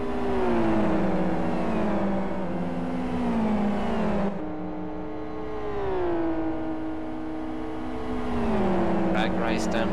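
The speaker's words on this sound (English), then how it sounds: "Drag race down the straight between them." Super GT race cars from the 2011-2012 season drag racing side by side down a qualifying straight, engines droning loud and close with rising and falling pitch as they pass, under running commentary.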